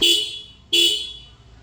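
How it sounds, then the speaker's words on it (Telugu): Two short, loud honks from the horn of a TVS Apache RTR 200 4V motorcycle, heard up close, each blast sharp and bright and then briefly fading. "ఫస్ట్ అయితే మీకు హార్న్ తోనైతే స్టార్ట్ చేస్తాను"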